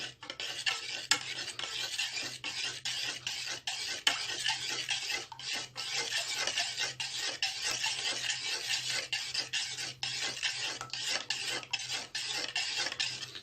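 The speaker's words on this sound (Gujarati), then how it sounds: "આને બરાબર મિક્સ કરી લઈશું." A mango ice cream mixture stirred steadily in a bowl, with rhythmic close scraping and rubbing strokes running throughout and no voices.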